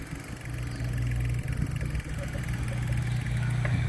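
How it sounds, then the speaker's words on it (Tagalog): Motorcycle engines idling nearby at a fun race, a steady low rumble with slight revs, continuous and fairly loud throughout. "Yan po yung motor natin."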